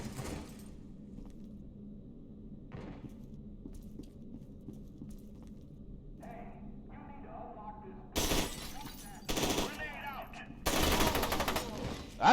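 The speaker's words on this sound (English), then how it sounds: "That's a grenade." A grenade blast erupts in a F.E.A.R. 2 firefight, a few loud, broad bursts crashing in after a quiet stretch, mixed with gunfire and shattering debris, with a voice talking faintly at times.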